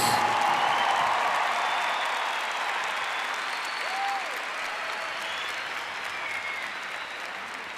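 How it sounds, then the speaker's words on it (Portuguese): Congregation applauding in honour of the Holy Mother of God during a Catholic church service, a dense, sustained roar of clapping that slowly fades slightly over several seconds, with little else audible. "Pode aplaudir a Santa Mãe de Deus."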